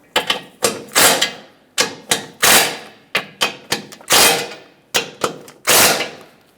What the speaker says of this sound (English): Once you have all 8 started, tighten them all up.